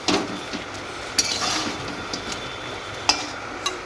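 Potato pieces are stirred into sizzling chicken curry in a pan, a steady hiss of frying under close scraping, with a few sharp metallic clinks of the spoon against the pot.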